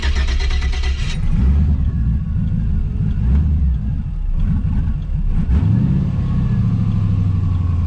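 A car engine idles roughly and unevenly, struggling to keep running and lurching through a series of loud, shaky revs, heard up close with no talk.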